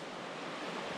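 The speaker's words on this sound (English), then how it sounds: "Oh, the river is beautiful." A river flowing on a snowy day with light flurries, heard as a steady, dense broadband rush of water with no change across the brief moment and no voices.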